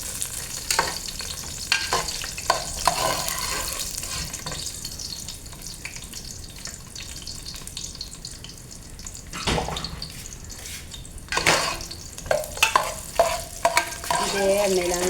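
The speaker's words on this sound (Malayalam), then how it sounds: "ഇതേ എണ്ണയിലാണ് ഞാൻ സേമിയ വറുക്കുന്നത് കേട്ടോ." Semiya vermicelli fries in hot oil in a pan, already used for the raisins, for a payasam. A steady sizzle runs throughout, broken by scraping stirs and louder bursts near the end.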